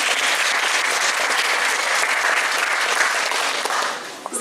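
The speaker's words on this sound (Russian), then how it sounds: "Аплодисменты" A room full of people at a bookshop book event applauds in a steady, dense wash of clapping that holds for a few seconds and then begins to taper off.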